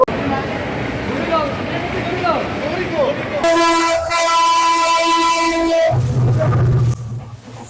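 A train at Kamalapur railway station blows a loud, sustained horn that drones for several seconds amid rumbling rail noise, with people talking nearby before and after.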